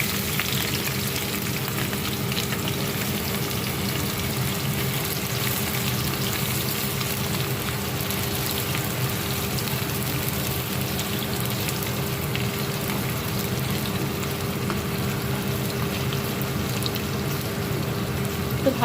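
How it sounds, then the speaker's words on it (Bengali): Onions frying in a pan for homemade biryani, a steady dense sizzle that holds evenly loud and close for the whole stretch, with faint stirring underneath and no talking. "পেঁয়াজটা দেখুন ভাজা ভাজা হয়ে এসছে।"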